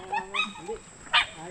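A tethered dog gives a few short yips and whimpering barks, fairly close, mixed with brief bits of talk.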